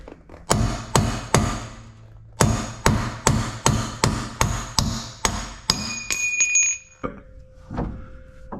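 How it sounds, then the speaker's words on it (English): A metal punch is hammered to drive an axle out of a BMW E36, giving about a dozen sharp, ringing strikes in a steady rhythm up close. A few lighter metallic clinks and a faint whine follow. "So now it is time to hit it with the punch"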